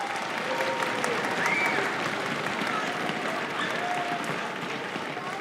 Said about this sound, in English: round of applause for our seniors